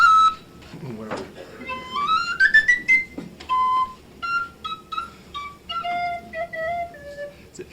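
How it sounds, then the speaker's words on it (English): Folk tune played on a pipe, its clear whistling notes stepping and gliding one after another, moderately close, with a faint murmur of audience or room noise beneath. "It's a peculiar tune because it starts in the lower register of the pipe,"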